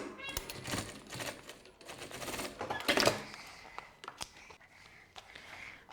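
A sewing machine stitching along a zipper on a fabric toiletry bag, with quick mechanical rattling bursts, close and moderately quiet, pausing briefly between runs, with handling clicks around it and no talking.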